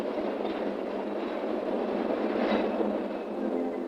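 PATH commuter train rumbling along steadily at moderate distance, a continuous low mechanical roar with faint rail noise and no talking.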